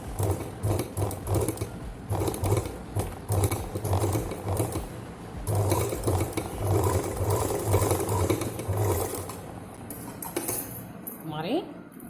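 A sewing machine stitches cloth for a small key chain purse, running in a steady rhythmic whir close by while someone talks over it throughout.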